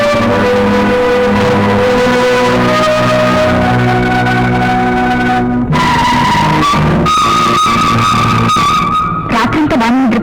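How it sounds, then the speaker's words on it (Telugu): A car skids to a halt with a long, loud tire squeal that holds steady, then shifts pitch as it stops. Music and other sounds overlap, and a voice is heard. "డ్రైవర్, కారు ఆపు."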